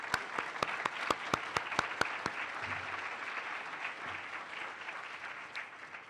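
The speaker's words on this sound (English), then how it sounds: "please give everyone a round of applause" An audience at a transportation and communities summit applauds, with a few crisp, separate claps at first, then a dense, even wash of clapping that slowly fades.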